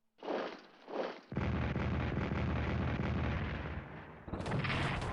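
Artillery booms in a WW2 Pacific strategy game: two short muffled blasts, then a dense, sustained roar of heavy gunfire that fills the remaining seconds at steady loudness.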